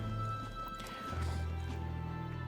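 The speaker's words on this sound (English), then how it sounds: "Oh, look at the horsey." A horse in the video game Metaphor: ReFantazio, with soft hoof clip-clops and a faint whinny over a steady music bed.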